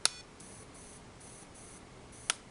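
An Aetertek AT-216S remote dog training collar receiver gives two sharp beeps, one at the start and one near the end, with faint repeating tones between them over a quiet background.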